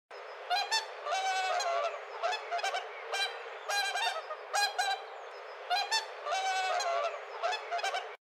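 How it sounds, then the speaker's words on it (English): A swan honks repeatedly in quick, nasal bursts, close and fairly loud, with irregular clusters of calls over steady low background noise. "Swan."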